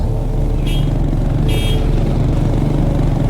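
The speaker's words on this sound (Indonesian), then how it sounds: "Aku pun menyalakan klakson motorku." Two short, high motorcycle horn toots sound over a loud, steady engine rumble, the second beep slightly longer than the first.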